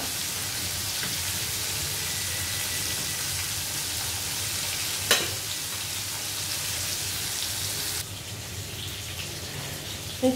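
Vegetables fry in hot oil in a home kitchen while a hilsa-and-radish curry is being made, giving a steady, moderately quiet crackling hiss with one sharper clatter midway and no talking.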